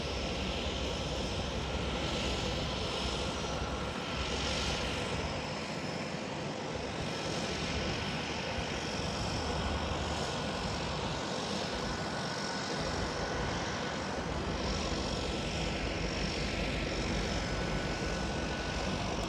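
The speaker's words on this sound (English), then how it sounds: "I chose to catch the plane landing" A propeller seaplane landing in Victoria, BC, Canada gives a steady, far-off engine drone that holds for the whole stretch, mixed with outdoor wind and ambient noise, with no voices.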